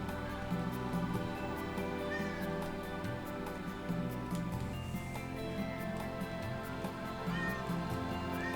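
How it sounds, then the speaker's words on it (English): A cat meows in a stream of the role-playing game Xenogears, a soft cry over steady game music, faint and partly buried in the background score. "Cat."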